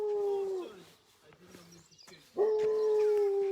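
Little Ralph, a small dog, lets out a long sustained howl, breaks off into a few yips and whimpers, then starts howling again, fairly close and loud, directed at a visiting friend.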